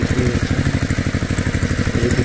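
A tractor engine putters close and loud in a steady, fast, thumping rhythm, an even low chug that runs without a break.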